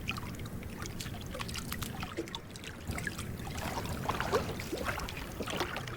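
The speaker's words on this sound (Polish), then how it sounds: "Wkłada kłomlę do wody przy szuwarach." A fisherman dips a hand net into the water from a boat beside reeds, giving soft sloshing and trickling water under a steady outdoor background.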